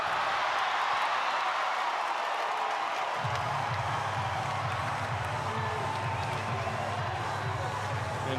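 Sustained roar of a standing college volleyball crowd in an arena during a BYU versus UC San Diego match, a continuous dense wash of cheering and applause with a low rumble swelling in partway through.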